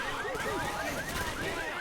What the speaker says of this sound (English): The alarm car is active, but it doesn't really mean anything.